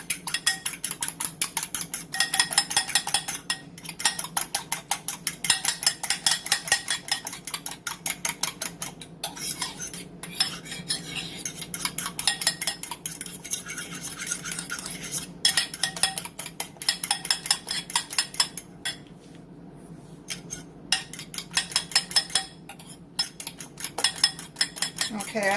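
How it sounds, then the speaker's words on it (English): Egg mixture whisked briskly in a mug for French toast, a rapid metallic clinking of utensil against the mug's sides, continuous and close for about twenty-five seconds with brief pauses. "now you're just going to whisk that together"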